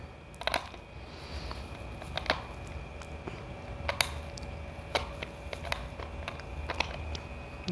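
Brace adhesive is scraped off a plastic Typodont with a small hand tool, giving sharp, irregular clicks and short scratches close to the mic, spaced unevenly over low background noise.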